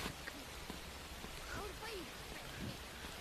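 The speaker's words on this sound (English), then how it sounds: "I hate that rain" Steady rain falling at a water park in the Capuchin video game, a constant soft hiss of drops with faint scattered chirps over it, fairly quiet throughout.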